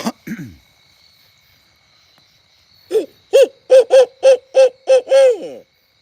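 An owl hoots at night outdoors at a campsite, a series of about eight evenly spaced, clear hoots in a steady rhythm that end with a longer trailing note, preceded by a couple of brief sounds and faint insect hum.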